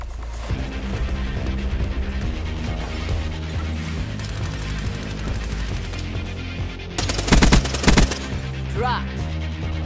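Peacekeeper MK2 assault rifle fire in Black Ops 3, rapid bursts over busy game sounds, with one sharp, loud volley standing out near the end.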